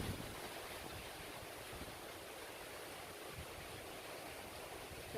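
Strong habagat monsoon wind blowing steadily in the Philippines; a constant broadband roar like surf, faint and unbroken throughout, with no voices.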